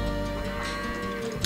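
Sheep in Age of Empires II HD give a steady, layered bleating with a faint moo-like tone, running as one continuous dense wash. Several animals seem to call at once, with no voices over them.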